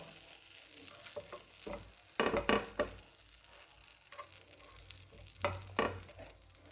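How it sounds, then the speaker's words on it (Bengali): Bread slices toasting in butter in a frying pan, a soft continuous sizzle broken by scraping and clinks as pieces are placed and turned one at a time, close but fairly quiet. "বাটারটা দিয়ে এভাবে আমি একটা একটা করে বসে এপিট ওপিট সেঁকে নেব।"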